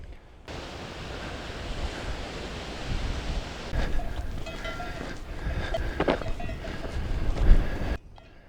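Strong wind blows across a mountain trail in the Pyrenees, a steady roaring rush that buffets the microphone and swells in gusts, with no voices.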